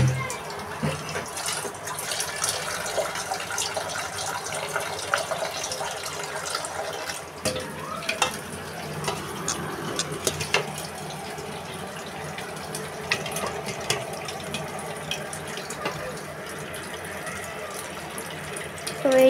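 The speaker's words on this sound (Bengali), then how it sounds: "তো এখন পানি দিয়ে দিব" Water is poured into flour for mixing dough, making a steady splashing trickle that runs for most of the time at moderate level, with some soft handling noises and a brief knock partway through.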